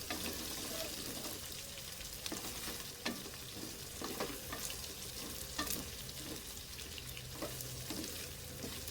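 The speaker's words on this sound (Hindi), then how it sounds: "ये लहसुन अदरक का पेस्ट ऐसे इसको अच्छी तरह ये साथ चिपकेगा, रेड होगा, ब्राउन" Garlic ginger paste frying in ghee for chicken jalfrezi, a faint continuous sizzle broken by frequent clinks and scrapes of a spoon stirring in the pan, quiet and close.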